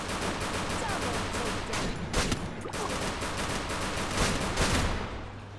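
Shotgun and other gunfire in the mobile battle game Free Fire Max crackle in dense, overlapping bursts, moderately faint and continuous across the whole stretch.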